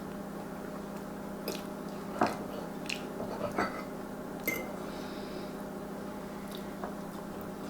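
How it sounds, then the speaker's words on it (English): Quiet, soft chewing of a piece of cooked sweet potato, with a few moist squishy bites and faint clicks over a low steady background hum. "Let's try a piece of this sweet potato"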